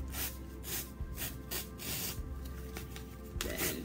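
Newspaper being torn by hand into jagged strips roughly an inch or two wide for papier-mâché piñata making, heard as repeated close, dry ripping swishes in quick succession with no talking.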